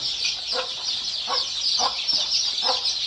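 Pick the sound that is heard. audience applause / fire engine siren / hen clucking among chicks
hen clucking among chicks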